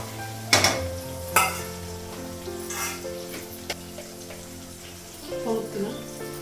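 Eggplant fries in a pan with onion and green chili: a low continuous sizzle under sharp clanks of a utensil against the pan and occasional stirring scrapes.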